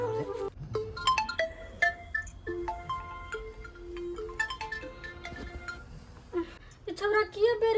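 A phone ringtone plays as a repeating melodic tune, moderately quiet, interleaved with people talking nearby.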